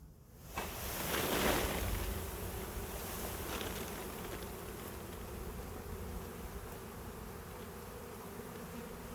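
A calm honeybee swarm held in a bucket hums in a dense, steady drone of many wings, close and continuous, with a slight swell early on before settling into an even buzz.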